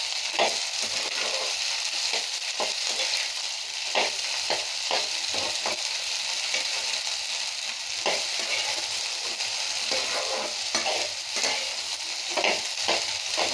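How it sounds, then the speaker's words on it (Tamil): Lady finger okra frying in a pan while being stirred, a steady close sizzle throughout with scattered scraping and stirring knocks, no voices. "வெண்டைக்காயை போட்டுட்டு நல்லா இப்படி கிளறணுங்க."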